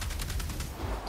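Rapid burst of gunfire in The Outer Worlds video game, several sharp shots in quick succession, loud and close, with no talk over it.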